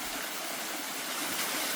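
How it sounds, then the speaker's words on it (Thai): A waterfall in a remote Lao village pours in a steady, dense rush of water, loud and continuous without a break, with no voices over it. "น้ำตกตาดสวยสดงดงามเย็นดีพี่น้อง"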